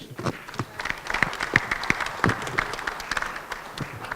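Audience applauding at a panel on healthcare access, a burst of many hands clapping that stays fairly steady and close, with a few louder individual claps standing out.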